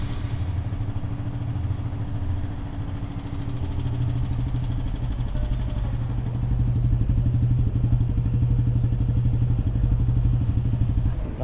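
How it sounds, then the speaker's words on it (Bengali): A 2023–24 Suzuki GSX-R motorcycle idles nearby with a steady, rapid engine pulse that grows slightly stronger and rougher toward the end; no one speaks. "স্টার্ট দাও তো গাড়িটা"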